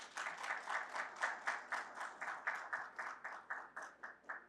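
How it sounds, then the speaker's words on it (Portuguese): An audience at a professional councils panel on data governance claps in rhythmic, evenly spaced bursts for the panel chair, a steady unison beat of about four claps per second that stays at a moderate level throughout. "Uma salva de palmas."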